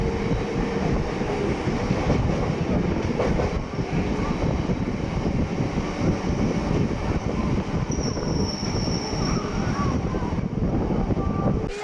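Onboard a local passenger train bound for Digha, riding from Mecheda, with a constant loud rumble of wheels and carriage rattle, windy open-window noise and a brief high squeal near the end.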